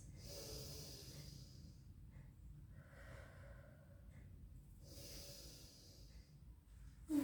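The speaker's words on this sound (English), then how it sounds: "Big deep breaths" Slow, deep breaths during a gentle Pilates rehab session, two long airy inhale-exhale cycles close to the mic with a quiet pause between, no talk.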